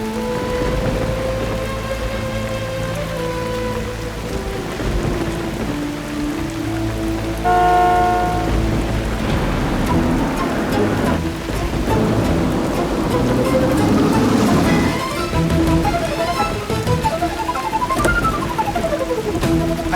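Rain falls steadily on a surface with thunder rumbling low beneath it, loud and continuous throughout, while tonal background music runs over the storm; nobody speaks.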